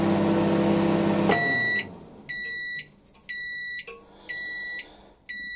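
A microwave oven heating canned food hums steadily, then stops and gives a series of loud, sharp electronic beeps spaced with short gaps, heard alone and up close.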